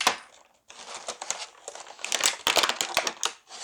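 A NECA Jaws Toony Terrors figure being cut free from its plastic packaging, with close crinkling and crackling of plastic, scissor snips and tearing in irregular bursts, no talk.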